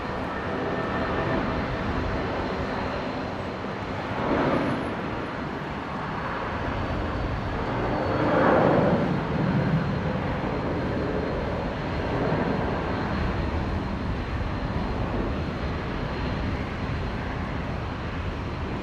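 A Jetstar airliner passes at Brisbane International Airport, its engine roar a broad distant rumble swelling and fading over the steady background hiss of an outdoor spotting position.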